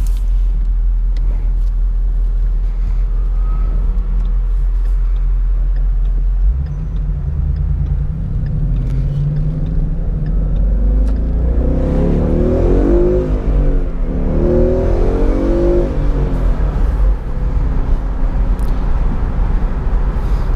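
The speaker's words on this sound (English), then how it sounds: "So it is a considerably less wind noise inside the cabin here, as it should be when you pull the windows up." Steady low engine rumble and road noise inside a 2017 Ford Mustang GT California Special convertible with the windows up, swelling as the car accelerates partway through, loud and continuous with no voices.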